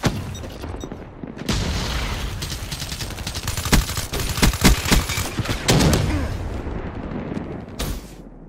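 A frag grenade blasts amid heavy gunfire in the video game Black Ops 3: a dense, loud wash of rapid shots, with booming bursts near the middle and a final sharp report at the end.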